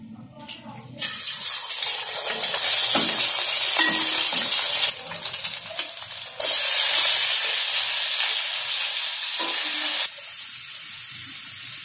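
Two eggs fry in about four tablespoons of hot oil in a pan on a stove, a loud continuous sizzle that flares up at the start and shifts in intensity with stirring, with no talking.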